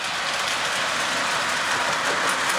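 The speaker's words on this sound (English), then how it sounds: "The trains are running at the Dundalk Historical Society." Model trains run around a holiday train garden display at the Dundalk Historical Society, giving a steady, close rumble and whir of rolling wheels with no break or voices.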